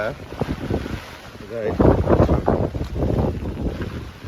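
Gusty wind buffets the microphone during a rainy-day street walk, a steady rumbling roar that swells and fades under someone talking throughout.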